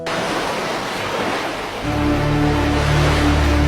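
Continuous roar of ocean waves washing onto a seashore, a broad steady surge that swells louder partway through, with no voices.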